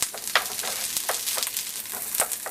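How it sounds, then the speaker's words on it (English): Onions, peppers and sausage sauté in a pan for homemade pizza, a continuous close sizzle punctuated by quick scraping strokes as the mix is stirred. "I'm going to saute these onions first a little bit."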